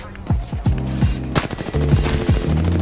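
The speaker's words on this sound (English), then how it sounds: "I do apologize if the weapons are a bit too loud." Weapon fire in the video game Apex Legends, with loud automatic bursts of rapid shots in quick succession that grow denser in the second half, sounding close and punchy.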